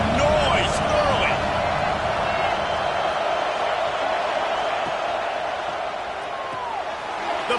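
Loud, steady stadium crowd roar at a Vols–Tigers college football game, a dense sustained wash of cheering across the whole stretch, with a commentator talking over it.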